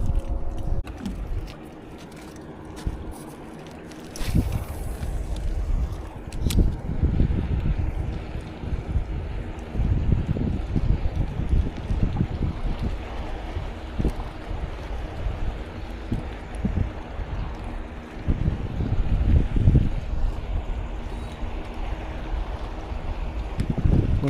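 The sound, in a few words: fishing boat moving on the sea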